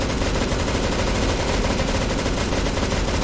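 Continuous, dense light machine gun fire from M249s and a Negev in a competitive shooter match, loud and relentless rapid bursts overlapping with no gaps throughout.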